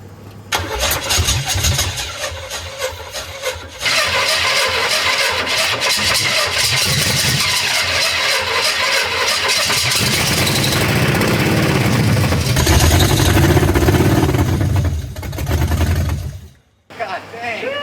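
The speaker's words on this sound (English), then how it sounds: "Let's see if she starts." Modified Chevy Camaro engine with swapped spark plug wires cranking and catching, then running rough and loud with bursts of revving up close, a brief cut near the end, while people shout and talk over it.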